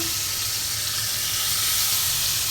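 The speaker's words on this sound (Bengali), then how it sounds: "এখন সরপুটি মাছটা ভেজে নিচ্ছি" Sarputi (olive barb) fish fries in hot oil in a home kitchen, giving a steady, close sizzling hiss that runs unbroken throughout with no voices.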